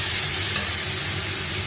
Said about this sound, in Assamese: এতিয়া পিঁয়াজটো মই সুন্দৰকৈ ব্ৰাউন কালাৰ কৰি ভাজি ল'ম